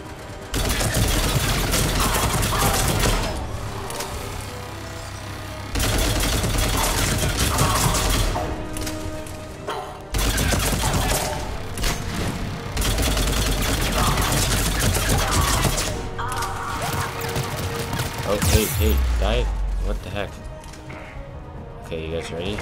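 Automatic weapon fire from a gun in the video game Mass Effect 3, loud and sustained in long dense bursts with brief pauses, mixed with game music and effects.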